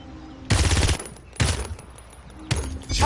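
Gunfire from the Koga champion in a video game, heard as three loud rapid bursts of automatic shots separated by short pauses, up close and with no talk.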